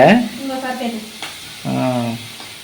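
Small bitter gourds fry in a pan over a strong flame, giving a soft sizzle and occasional stirring beneath a voice talking throughout.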